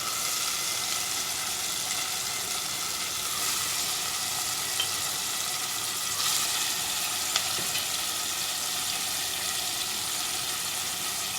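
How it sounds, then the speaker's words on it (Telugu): Chicken fries in a pan of cooked masala for chicken pulusu, a steady, even sizzle holding at one level with a couple of faint clicks and no voices. "ఇప్పుడు దీంట్లో చికెన్ వేసుకుందాం."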